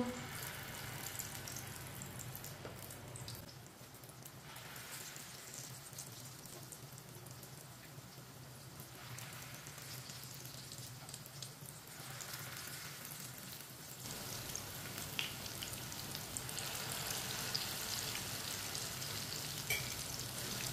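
Spoonfuls of moong dal paste sizzle in hot oil, a steady broadband frying hiss that carries through the whole stretch, swelling slightly toward the end, with no talk over it.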